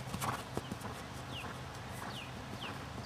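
Clip-clop of a ridden mare's hooves moving steadily uphill during a riding lesson, a regular rhythm heard up close with faint bird calls in the background.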